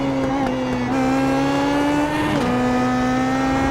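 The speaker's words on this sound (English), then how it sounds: "modulating the throttle so the car doesn't get oversteer" A PM18 race car engine at Mid-Ohio Sports Car Course drones loudly and steadily up close as the throttle is modulated through a tight left-hander, the pitch easing and dipping slightly before recovering.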